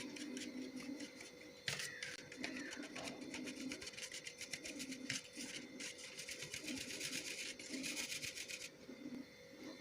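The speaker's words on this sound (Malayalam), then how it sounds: "ഇനി ഇതെല്ലാം നമുക്കൊന്ന് സീവ് ചെയ്തെടുക്കാം." Dry cake ingredients, flour, baking soda and salt, are sieved, a soft rhythmic rubbing and tapping rattle repeating steadily, close and quiet, with no talking.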